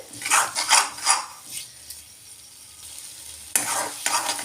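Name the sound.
stirring and sautéing potato curry in a pan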